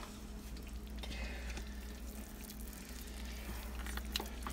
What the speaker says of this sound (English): I'll stir this with a different spoon